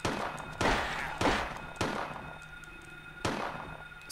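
Gunfire in the survival horror game Silent Hill: four sharp, loud reports spaced about a second apart, each with a short decaying tail, with no voice over them.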